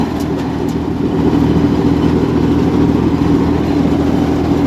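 A tractor-powered tree-cutting machine drones with a loud, steady low engine hum close by, its level swelling slightly after the first second and then holding, with no voices.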